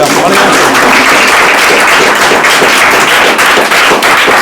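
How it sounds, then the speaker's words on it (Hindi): A Class 9 room at a year-end prize distribution bursts into loud, sustained clapping for a student, a dense patter of many hands lasting the whole moment, close and energetic. "आइए ताली बजा भाई"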